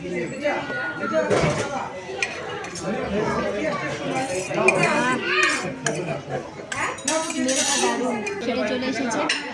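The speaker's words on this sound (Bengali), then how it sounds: "ভেজ বিরিয়ানিটা সার্ভ করা হচ্ছে" A serving spoon clinks against dishes as veg biryani is served, with light metallic chinks scattered under near-constant chatter and talking.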